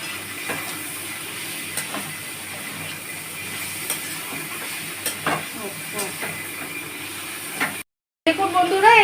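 Mushroom chicken cooking with butter in a pan, a constant hiss of frying under repeated stirring knocks and scrapes, briefly cut off near the end.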